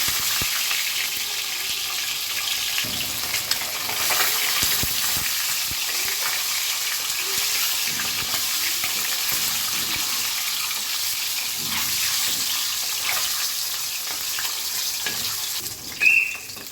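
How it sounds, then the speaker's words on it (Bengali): Duck eggs fry in a pan with a steady, soft sizzle and faint crackles throughout, with no talking. "ডিমগুলো হালকা করে ভাজা হয়ে গেছে"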